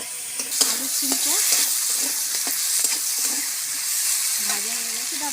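Potatoes and flat beans fry in a pan with a steady, bright sizzle, punctuated by occasional stirring scrapes and brief faint voice sounds in the background.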